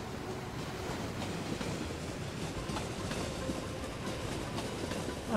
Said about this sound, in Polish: Jak ten tramwaj wygląda, bo jej rzadko używam.